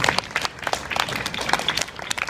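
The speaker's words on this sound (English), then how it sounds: "Give them a round of applause for their patience here." A live show audience on stage in Sydney gives a round of applause, scattered claps with uneven peaks, moderately quiet and brief, without talking over it.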